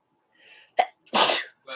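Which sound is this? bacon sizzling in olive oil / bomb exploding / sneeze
sneeze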